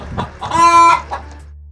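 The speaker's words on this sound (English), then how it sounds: "the chickens were clucking and pecking" Chickens cluck in a short burst, a few sharp clucks rising into one drawn-out call, close and clear with nothing else behind them.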